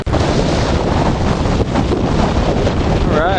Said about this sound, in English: It's a windy son of a gun out here.